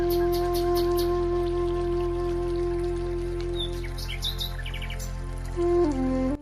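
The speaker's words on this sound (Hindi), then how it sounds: "इस पेड़ की टहनी पर देखो कितनी सारी पक्षियां बैठ रखी है" Birds chirp and tweet from a tree branch during rain, short calls repeating over a steady rainy background with a constant low hum.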